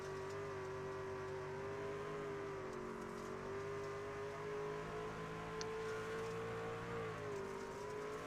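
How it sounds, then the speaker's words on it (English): A racing truck engine at Knoxville drones steadily and loudly throughout, its pitch wavering slightly as it holds a continuous high whine. "So fun to hear the car."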